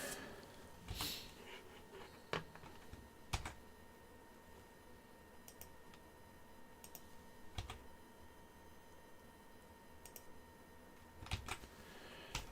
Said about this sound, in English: I've got my keyboard in a different spot, so I hope it's not too loud on the microphone.